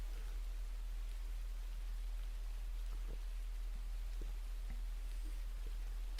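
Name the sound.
rain falling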